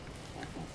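Pigs from the video game Don't Starve give brief, low, muffled grunts in a short burst with no talk.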